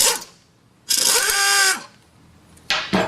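A 21 mm tool removes the track bar bolt at the rear axle of a Jeep Wrangler during a suspension lift install, heard as a sharp buzzing whir in one longer burst followed by two short bursts, close up.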